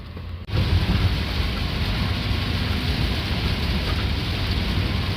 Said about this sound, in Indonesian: Hujannya luar biasa, jarak pandang terbatas.